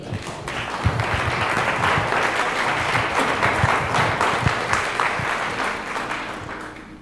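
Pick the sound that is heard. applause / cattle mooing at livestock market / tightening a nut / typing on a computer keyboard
applause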